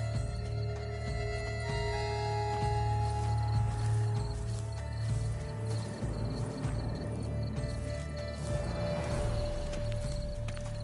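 Steady clip-clop of horse hooves with a brief whinny in The Witcher 3, layered over a constant tonal hum and ambient background, no talking.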